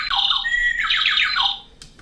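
An Avantek wireless doorbell plays its bird-chirp chime: a loud, close burst of rapid electronic tweets and squawks lasting about a second and a half before falling silent.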